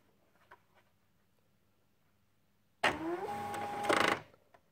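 Inkjet printer powering up with its paper-feed roller and cartridge reinstalled, giving a loud mechanical whir of about a second and a half with rising motor tones, alone after quiet handling noises.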